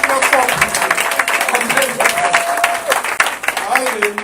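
A church congregation at a Sunday worship celebration breaks into loud, sustained clapping mixed with cheers and raised voices, the applause dense and continuous with a few whoops rising above the crowd.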